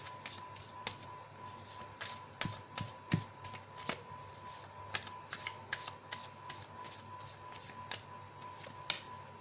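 Tarot cards handled and shuffled, a crisp run of riffling flicks and light snaps at a soft, close level with no talk.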